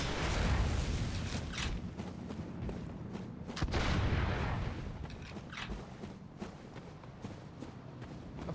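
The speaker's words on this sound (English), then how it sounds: "Stop fucking shooting me!" Gunfire aimed at the player in the Bloodborne video game, a run of heavy booming shots mixed with running footsteps and combat noise, fairly distant.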